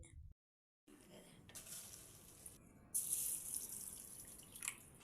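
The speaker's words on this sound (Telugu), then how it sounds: "ఇట్లా కాగితాలు మునిగేటట్టు నీళ్ళు పోయాలి, మంచిగా నానుతాయి." Water pours steadily into a bowl after a short silence, a continuous splashing rush that grows a little louder partway through, with no talking.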